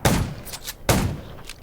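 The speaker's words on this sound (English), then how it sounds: "Gunshots will attract him." Two sharp gunshots in the zombie survival game Undawn, each a loud, punchy crack with a short decaying tail, spaced under a second apart.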